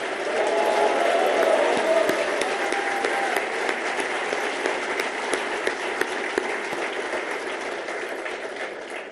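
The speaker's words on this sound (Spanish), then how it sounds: "aplaudamos también a Adrián Rabier" Audience applause for Adrián Rabier, a candidate in La Pampa, at a Javier Milei political event; a sustained, fairly loud wash of clapping from a large crowd that continues steadily throughout with some voices mixed in.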